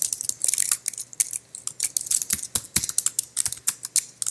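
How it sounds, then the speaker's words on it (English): A password typed on a computer keyboard while setting up an OpenVPN server, with rapid, uneven, close key clicks in a steady run and no talk. "Type the password twice."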